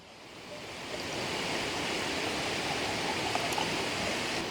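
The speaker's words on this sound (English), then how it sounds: "now I'm going to strain the bark from the decoction now by pouring it into this jar through this little strainer" Oak bark decoction is poured from a pot through a small strainer into a jar, a steady, soft liquid splashing and trickling that swells slightly and holds evenly throughout, with no talking.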